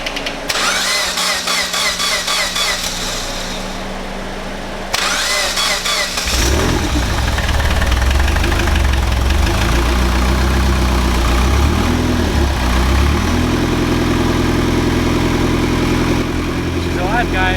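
A car engine with a check engine light on cranks and catches, then settles into a steady, loud idle with a low rumble, a voice speaking briefly over it.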